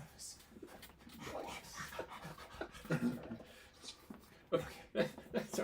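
A person imitates a panting dog with rapid, breathy huffs and whimpers at a tabletop role-playing game session, with other voices talking and laughing around it.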